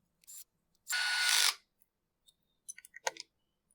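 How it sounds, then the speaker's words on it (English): Four screws being run back into a two-stroke engine part on a workbench. A powered driver gives one short whirring burst, then quiet clicks and light taps follow, all close. "we just run the 4 screws back in"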